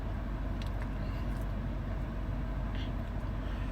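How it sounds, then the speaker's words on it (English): Steady low roar of highway traffic beside a roadway with a display board nearby, vehicles moving continuously at a distance with no clear individual pass-bys and no talking. "behind me is the highway. You guys can see some vehicles moving."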